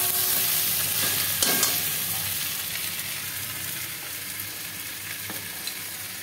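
Fish heads sizzle and fry in hot oil in a pan while lentil dal is cooked, with loud crackling that slowly settles and a couple of sharp scrapes as they are stirred.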